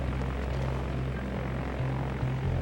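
Twin Otter airplane just arrived on the ground in northern Canada, engines and propellers droning as a steady low rumble with a constant hum, continuous and fairly loud, no talking.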